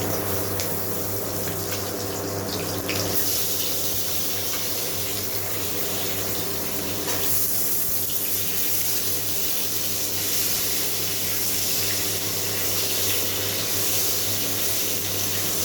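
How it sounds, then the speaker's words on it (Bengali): Potatoes going into hot oil with fried nigella seeds and chilli for a fish curry give a continuous close, loud sizzling hiss that surges at the start and again midway, then holds steady without talk. "এখন এর মধ্যে আলুগুলো ছেড়ে দেবো"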